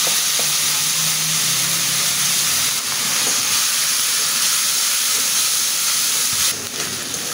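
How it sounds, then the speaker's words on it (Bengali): Onion with ginger-garlic paste frying in hot oil left from fried fish, a loud continuous hissing sizzle with occasional stirring, close up and steady for the whole stretch. "এই তেলে আমি পেঁয়াজ দিয়ে দেব। আমি একটু আদা রসুন বাটা দিয়ে দেব।"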